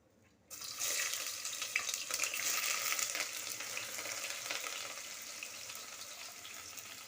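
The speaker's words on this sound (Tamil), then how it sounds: "வெங்காயம் நல்லா வதங்கட்டும்." Onions drop into hot oil with whole spices for mutton biryani and sauté with a sudden burst of loud, close sizzling. The sizzling holds steady, then eases slightly, with faint stirring scrapes.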